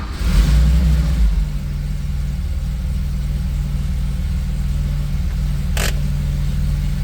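A 1977 Porsche 911S Targa engine cranks and fires with a low burst, then settles into a steady idle hum; a brief high electronic tone sounds near the end.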